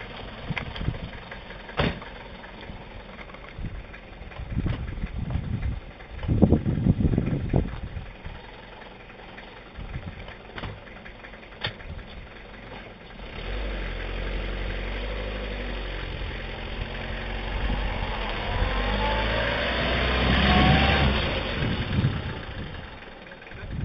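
A car engine idles steadily with a low rumble in a mountain area of Tunisia, preceded by some clunks and knocks, and the hum rises slightly toward the end.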